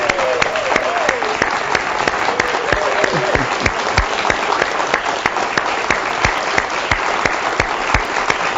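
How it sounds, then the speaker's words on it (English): A studio audience of award winners applauds steadily and loudly, with dense continuous clapping and a few sharper claps standing out, plus faint voices underneath. "how about a big cheer from the winners here in the studio today?"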